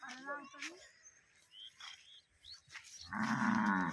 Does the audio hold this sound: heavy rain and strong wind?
no